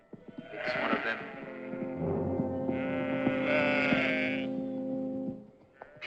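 A flock of sheep bleats in a pastoral setting, several loud, wavering calls overlapping at close range for most of the stretch.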